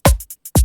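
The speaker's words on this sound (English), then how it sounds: "my shaker will sound like this" Shaker pattern programmed with an Ableton rotating rhythm generator, falling four times a bar against a kick drum; deep kick thumps open and close the short loop, with two crisp, bright shaker hits between them.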